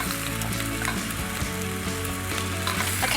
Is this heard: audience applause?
no